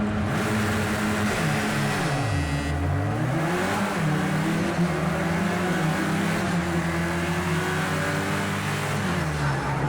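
Mercedes 4MATIC engine in the racing game Project CARS 2, loud and continuous, revving up and down through gear changes as the car accelerates.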